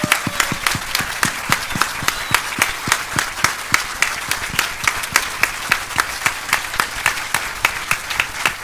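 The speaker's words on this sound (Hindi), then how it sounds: "एक बार जोरदार तालियां होनी चाहिए खड़े होके।" Loud standing applause from an audience at a public event with a Union minister, turning into strong rhythmic clapping in unison with crisp, evenly spaced beats that carry on steadily throughout.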